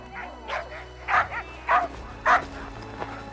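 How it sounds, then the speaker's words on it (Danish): Several old sled dogs scuffle over the lead position, giving short barks and yips in repeated bursts at close range, with whimpers between them. "Flere af de gamle hunde kæmper om førerpositionen."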